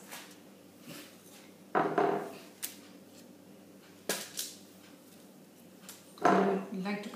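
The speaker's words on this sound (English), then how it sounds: "I am going to cut the karelas." A knife cutting karelas (bitter gourd) on a board, giving irregular sharp chops and clacks, some single and some in quick pairs, close by over a quiet background with a voice speaking at times.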